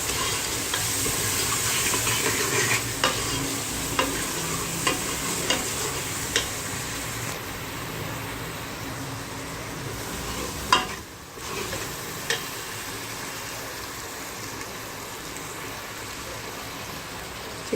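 Mash lentil masala with turmeric, red chilli, salt and dried coriander cooks in a pan, a steady close sizzle with regular spatula taps and scrapes every second or so, one sharper knock midway.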